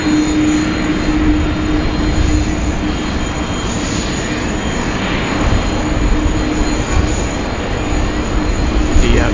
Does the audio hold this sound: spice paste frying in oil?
no